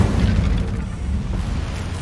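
Incendio fire spell cast in Hogwarts Legacy: a loud, rumbling fiery burst with a deep boom that roars for a couple of seconds, alone without speech.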